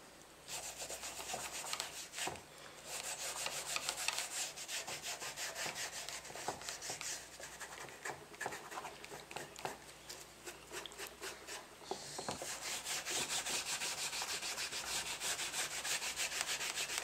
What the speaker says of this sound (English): Jesus rubs in an excess of antique leather stain to give it color